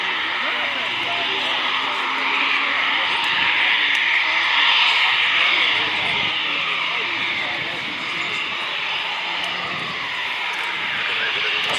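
A PC-9M Hudournik turboprop flies a display at RIAT 2024, its engine a loud, continuous drone that swells slightly midway through the pass.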